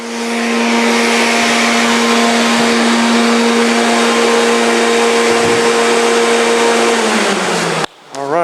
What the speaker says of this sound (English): would you turn off the dust system, please?